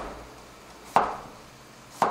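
A knife cuts zucchini on a cutting board in two crisp, separate chops about a second apart, close and fairly quiet against a still background.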